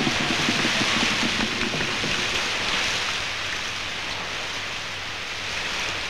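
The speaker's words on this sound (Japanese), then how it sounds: "待ちに待った雨が降った" Long-awaited rain falling, heard as a steady broadband hiss that stays even and fairly loud throughout, with faint low rumbling underneath and no voices.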